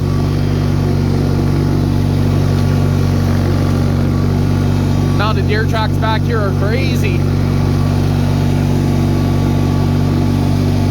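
Bolens HT-23 lawn tractor with a power-steering engine drones loud and steady at close range while driving across a yard, with someone talking briefly over it.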